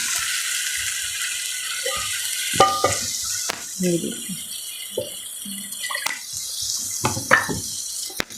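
Water splashes into spinach and potato masala in a hot pan, sizzling and bubbling with stirring clatter over a steady frying hiss, while someone speaks briefly.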